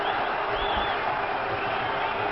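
A cricket crowd at Trent Bridge cheers and roars steadily during a tense Pakistan versus South Africa semi-final. The broad, continuous crowd noise is dense and sustained, with no single voice standing out.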